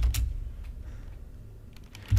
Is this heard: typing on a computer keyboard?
yes